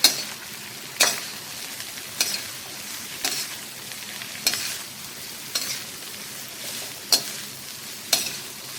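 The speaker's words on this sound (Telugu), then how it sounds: "అన్నీ లైట్గా ఫ్రై చేసుకోవాలండి." Chicken hakka noodles with onion stir-fried in a pan: a constant close sizzle, broken about once a second by a scraping stroke of a spatula against the metal, with no voices.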